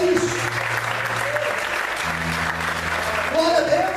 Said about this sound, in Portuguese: Então aplauda o Senhor e glorifica Ele por isso.